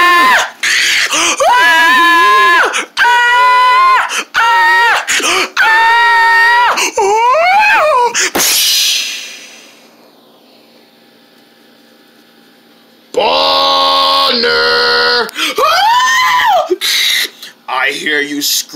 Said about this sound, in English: I hear you screaming!